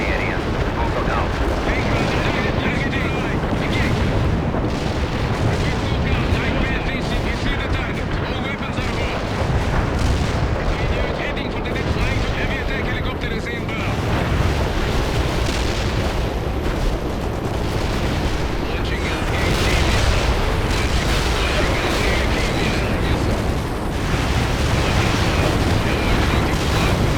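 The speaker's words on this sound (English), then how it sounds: "I have incoming artillery fire on all my positions." Continuous artillery strike explosions from the video game World in Conflict, a dense, loud rumble of booms and blasts filling the whole stretch, with radio voice chatter layered over the barrage.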